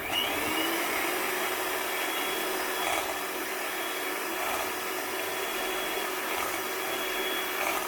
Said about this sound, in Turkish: Mikserimle bu karışımı çırpmaya başlıyorum.